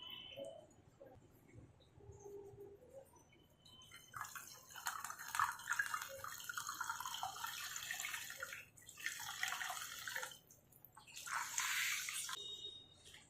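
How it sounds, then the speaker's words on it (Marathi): Water splashes and trickles over curdled milk as it is rinsed in a vessel, quiet at first then swelling into uneven pouring and dripping, faint and close. "त्याच्यावरती अजून पाणी टाकून घ्यायचं आणि छान असं धुवून घ्यायचं"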